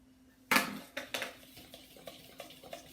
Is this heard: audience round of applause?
no